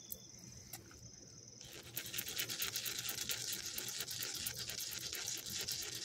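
A small stone scraped against a big rock to grind paint pigment, giving a steady dense gritty rasping that starts faintly and swells after two seconds into continuous close scratching.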